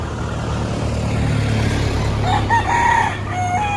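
Cuban Tiger chickens at the Lipa auction market give a brief crow and clucks near the end over a steady loud crowd and traffic hum.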